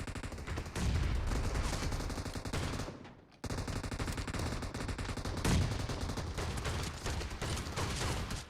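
Sustained rapid gunfire in PUBG Mobile, dense and loud, with a brief break near the middle before the shooting resumes just as heavily; no voices.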